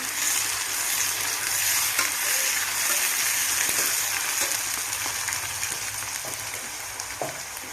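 Chopped tomatoes frying with softened onions in a pan for meal maker masala curry, giving a dense, steady hiss of sizzling oil close up, with a few faint stirring taps and no talk.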